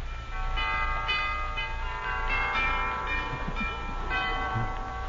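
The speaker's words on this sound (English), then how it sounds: "and I rang the doorbell" A doorbell sound effect from an old-time radio show chimes at a mansion's front door, sustained bell-like tones ringing out in a steady sequence with no voices over them.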